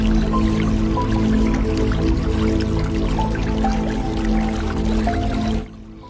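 Steady rushing water pours from a large river waterfall continuously, a full broadband wash with a soft tonal drone underneath, ending abruptly near the close.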